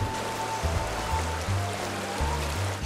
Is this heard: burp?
no